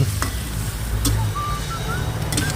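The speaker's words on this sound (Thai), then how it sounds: "ผัดปลาให้สุกก่อน" Giant catfish pieces stir-fried in a hot pan for a spicy Thai stir-fry with young coconut shoots give a loud, steady sizzle, with a few scraping stirs and light clatters on top.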